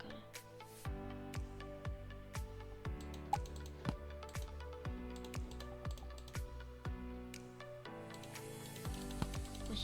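Rapid mouse clicks during a Roblox hammer-smashing game, a quick uneven stream of sharp taps over steady game music with repeating tones.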